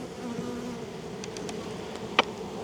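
Honey bees hum in a steady, moderately loud drone around an opened hive in a farm yard, with a few faint clicks and one brief sharp tap near the end.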